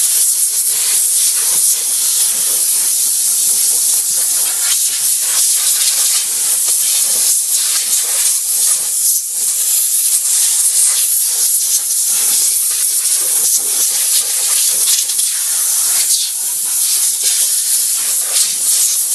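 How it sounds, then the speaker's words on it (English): Compressed air is blown over car cooling system joints, making a continuous loud, high hiss that holds steady and close for the whole stretch, with slight flutters in intensity. "we're going to just blow all the joints with compressed air so that we're not going to let any dust and grit into the system"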